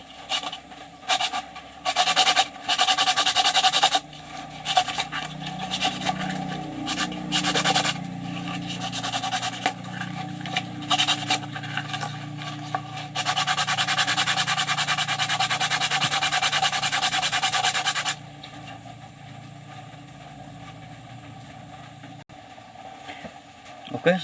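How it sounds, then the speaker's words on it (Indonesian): A hydram pump valve part being smoothed with sandpaper on its top and bottom faces, bursts of close, loud scratchy rubbing in uneven strokes, then a long steady stretch of grinding before it stops, with a voice talking alongside. "dihaluskan ya untuk bagian atas dan bawahnya menggunakan amplas seperti ini"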